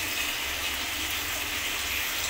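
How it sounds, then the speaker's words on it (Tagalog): Water running steadily from a leaking PVC sink drain pipe under a kitchen sink, a continuous close hiss of flowing water with no breaks. "May leak po yata. Kasi tumutulo dito."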